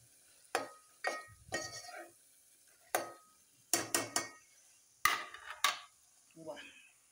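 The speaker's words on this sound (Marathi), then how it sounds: "तेल सुटेपर्यंत तेलात मसाला भाजू द्यायचा मस्तपैकी" Masala for a chicken dish fries in oil in a pan, heard close as short, separate bursts of sizzling and stirring with quiet gaps between them.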